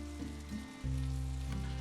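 Cashew-crusted chicken pieces frying in a pan, a soft steady sizzle with a low hum underneath that steps up and stays even, heard close and alone.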